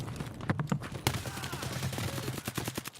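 Close-quarters gunfire in the video game Escape From Tarkov: several sharp, loud shots in an irregular burst, with quick follow-up cracks over a steady low game background.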